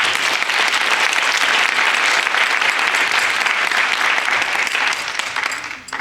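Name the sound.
audience applause at a graduation ceremony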